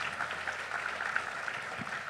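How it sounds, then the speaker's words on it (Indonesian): An audience applauding the Malaka team at an event, a steady wash of many hands clapping at moderate distance, continuous and even for the full two seconds. "Tepuk tangan dulu dong buat tim Malaka."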